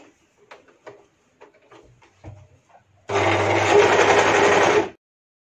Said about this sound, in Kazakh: Мына боковойын тігеміз